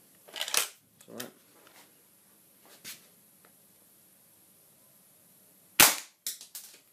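Air rifle shots at a computer hard disk drive, several sharp, snappy cracks with metallic impacts spaced irregularly over a quiet background. Two louder shots come close together near the end.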